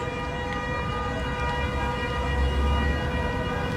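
An ambulance siren wails on a road near several accident scenes, a steady, sustained tone over a constant low traffic rumble, fairly loud throughout.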